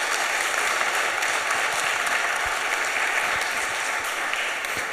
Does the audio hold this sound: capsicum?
no